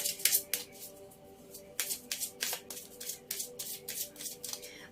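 Oracle cards are shuffled by hand in a series of sharp, papery riffles, close and fairly quiet, over a faint steady hum.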